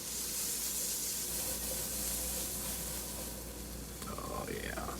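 A Denver scramble sizzles steadily in a frying pan, a continuous close hiss of frying eggs that holds at an even level throughout, with a brief faint scrape near the end.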